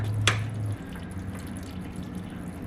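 Coolant dripping from a Honda S2000 engine during an engine bay teardown: one sharp drip early on, then a low, steady background hum.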